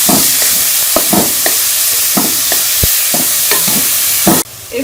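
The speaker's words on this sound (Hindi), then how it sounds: "अब हम इसमें ये बीफ का कीमा शामिल कर लेंगे और इसको इसके साथ अच्छी तरह से मिक्स कर लेंगे।" Beef mince and onions fry in a pan while being stirred: a continuous close sizzle with a rhythmic series of scraping strokes, ending abruptly.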